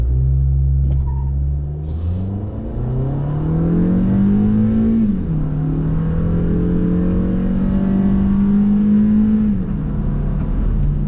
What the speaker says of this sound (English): I'm going to floor the accelerator